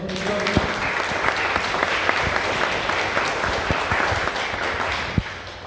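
A congregation at a church service gives strong applause to the Lord, sustained, dense clapping from many people with a few sharper claps standing out, fairly loud and steady throughout with no speech.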